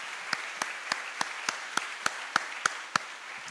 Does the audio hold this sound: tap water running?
no